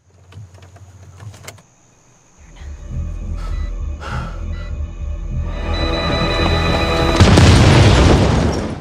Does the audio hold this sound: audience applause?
no